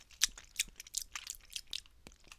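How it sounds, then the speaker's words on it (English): Crunchy chewing of ice in Minecraft, a rapid series of close, crisp bites and crunches spaced a few tenths of a second apart, alone with no talk. "Oh yes, chewing ice ASMR."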